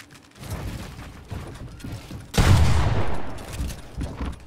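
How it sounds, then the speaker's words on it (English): A shotgun blast goes off in a video game during a one-on-one wager match. It is a single loud, broad burst midway through and decays slowly, following a stretch of quieter clicking and mechanical game sounds. "I'll only use a shotgun"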